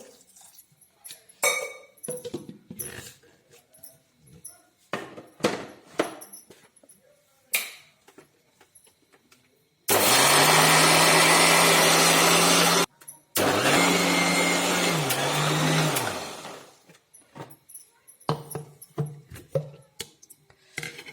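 A kitchen mixer grinder whirs loudly in two bursts of about three seconds each, grinding grated coconut, roasted spices, tamarind and a little water. Clinks and handling noises come before and after.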